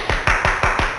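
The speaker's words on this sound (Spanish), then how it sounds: "Aplaudir." Children clap their hands in a steady rhythm, five crisp, evenly spaced claps within a second, loud and close with no talking.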